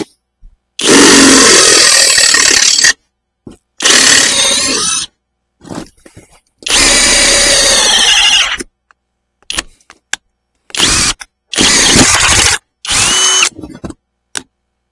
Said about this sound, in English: All we're going to do is just drill the centre of it out.